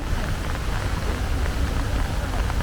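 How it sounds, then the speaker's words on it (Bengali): Rain falls all around at Usri waterfall near Giridih, a dense, steady wash of noise that stays even throughout, close and moderately loud with no clear voices. "এখন চারিদিকে বৃষ্টি পড়ছে"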